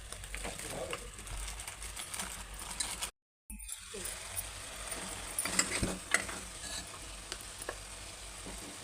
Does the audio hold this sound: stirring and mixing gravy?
yes